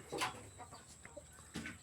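Chicks and hens on a fighting-cock breeding farm give a few faint, scattered peeps and soft clucks at close range in an otherwise quiet setting.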